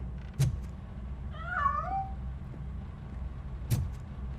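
A cat meows once, a short wavering cry in the video game Robocop Rogue City, heard over a low steady rumble and a couple of sharp knocks.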